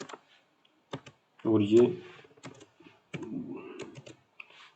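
Keys clacking on a computer keyboard while text is entered into a Jupyter notebook cell, a few short bursts of close clicks under a man's spoken explanation.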